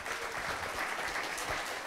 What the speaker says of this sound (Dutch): je krijgt een applaus